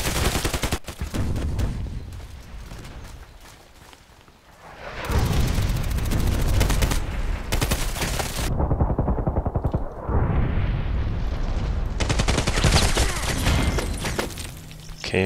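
Automatic SA58 battle rifle fire in the shooter game Contract Wars, loud and continuous bursts with heavy booms and explosions mixed in, the shooting pausing briefly before resuming at full intensity.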